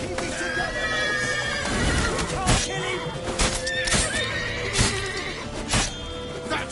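Horse in a video game giving a loud whinny over repeated hoof thuds and clops, with game sounds around it.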